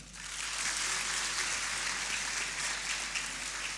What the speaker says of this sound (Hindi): खुशामदीद आपकी पुरजोर तालियों में